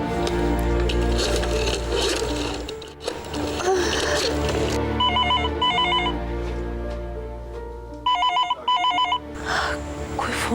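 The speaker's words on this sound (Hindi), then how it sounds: "फोन उठाओ।" A telephone rings in a Hindi TV drama scene, sounding in two short bursts of repeated double rings near the end over a loud background music score.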